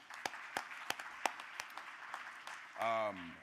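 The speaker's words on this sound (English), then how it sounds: "It's just another round of applause for everybody" Sparse, separate hand claps ring out one by one at an award ceremony for the AIC finals and Usibelli Award, spaced about a third of a second apart, before a voice briefly speaks near the end.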